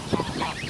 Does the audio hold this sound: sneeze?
no